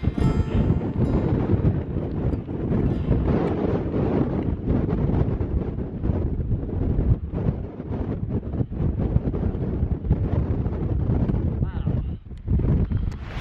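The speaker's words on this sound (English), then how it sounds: "It's windy." Strong wind buffets the microphone on the summit of Bison Peak in Colorado's Lost Creek Wilderness, a loud continuous roar with gusty swells throughout.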